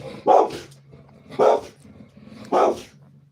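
A dog barks three times at an even pace, close and loud, with quiet gaps between barks.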